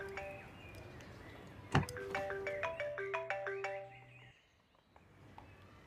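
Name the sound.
mobile phone ringing in a car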